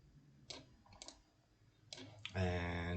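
Sharp mouse clicks in CAD assembly software, a few isolated near taps spaced apart, followed by a denser burst of clicking, with a faint low hum beneath.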